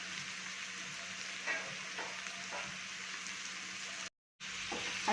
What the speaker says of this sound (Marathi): हे सुद्धा आपण छान परतून घ्यायचे